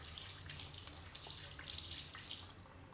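Water runs steadily from an automatic sink tap inside a self-cleaning public toilet in Paris, a faint, continuous hiss and splash with no talk over it.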